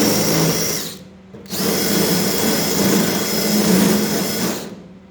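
A power drill spins a simple tool to clean out a spot weld, a loud continuous whirring grind that drops out briefly once near the start, then runs steadily and stops.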